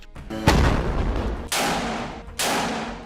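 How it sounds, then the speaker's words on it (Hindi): Gunfire and shelling during an attack on IDF troops in Rafah, southern Gaza: three heavy booming blasts about a second apart, each with a long rumbling decay, loud and fairly close, no talking. "यहां पर हमास के लड़ाकों ने एक बिल्डिंग पर टीबीजी गोलों से हमला किया है"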